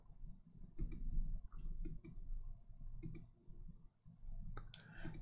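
Computer mouse clicks come in quick pairs at a desk, repeating every second or so, crisp and close in a quiet room.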